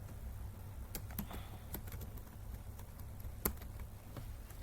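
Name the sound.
typing code on a computer keyboard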